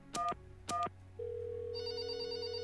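A telephone rings twice in short bursts inside the puzzle game There Is No Game: Wrong Dimension, then a steady dial tone takes over with a high electronic whine joining later; no one speaks.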